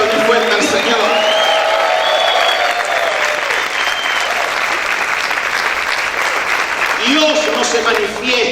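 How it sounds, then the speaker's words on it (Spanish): A church congregation claps loudly and shouts in praise, dense sustained applause with voices crying out over it, loud and close throughout, with tonal music or singing surfacing near the start and end. "¿Cuántos pueden gritar y aplaudir fuerte al Señor?"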